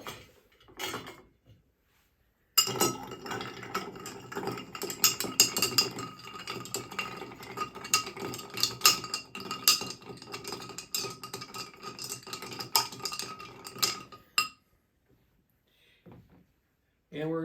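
Ice is stirred in a mixing glass while a Scotch cocktail is made, giving a continuous close rattle and clink of cubes and spoon against glass for about twelve seconds, bracketed by brief quieter knocks.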